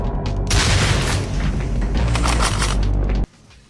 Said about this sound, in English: Next up is a shotgun, which is sadly not very useful.